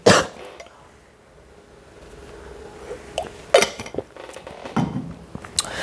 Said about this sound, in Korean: 미안, 잠깐 기침.